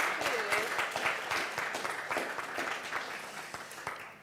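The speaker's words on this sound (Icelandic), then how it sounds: "Bara að gefa þeim báðum gott klapp aftur." An audience at an ADHD association conference applauds, clapping that starts fairly full and gradually thins and fades, with people talking over and through it.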